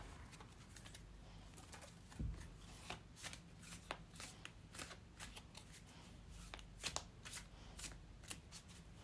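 A tarot card deck is shuffled close up in quiet bursts of riffling and soft flicks, repeating irregularly over faint background noise.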